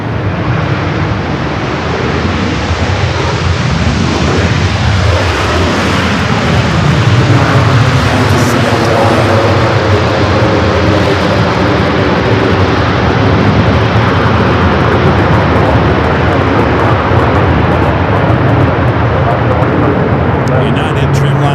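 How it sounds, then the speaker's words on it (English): A United Boeing Dreamliner airliner takes off at LAX, a loud, continuous jet roar that swells and sweeps in pitch as the aircraft accelerates and climbs, heard from a distance across the airfield with a steady rumbling wash throughout. "United Dreamliner taking off there on the south side."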